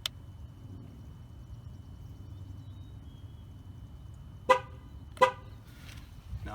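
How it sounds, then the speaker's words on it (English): A GM car's horn gives two short, sharp honks about a second apart after TPMS sensor programming, standing out over low garage background noise. "it's going to honk twice."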